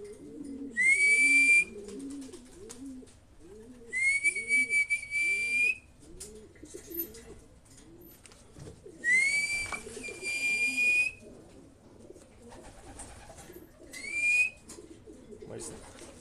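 Repeated soft, low coos of racing pigeons roll on steadily for the whole stretch, broken up by several bursts of high, shrill whistling.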